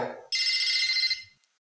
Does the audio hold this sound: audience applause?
no